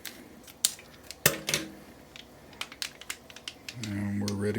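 Scissors snip open a yeast packet during home brewing of a yeast starter, with a series of sharp clicks and crinkly cuts close by, followed by a low hum at the end.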